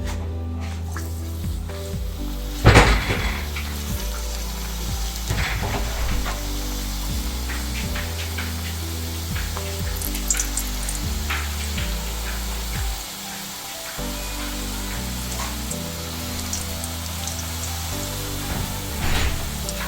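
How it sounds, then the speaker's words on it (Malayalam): Bread rolls for gulab jamun deep frying in hot oil in a pan, giving a steady close sizzle and crackle throughout with a sharp louder burst early on, no voices. "ഇനി നമുക്കിതൊരു പാനിൽ ഓയിൽ ഒഴിച്ചൊന്ന് ഫ്രൈ ചെയ്തെടുക്കാം."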